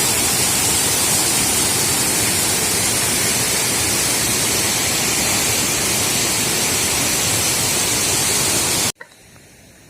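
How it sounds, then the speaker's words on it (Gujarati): Water pours over the overflow of the new village lake at Ramdhir in the rain, a loud, dense, unbroken rush close by that cuts off abruptly near the end. "આ છે રામધીર ગામનું નવું તળાવ નિકાળ ઉપરથી પાણી પડતા સુંદર મજાના દ્રશ્યો આપણને જોવા મળે છે"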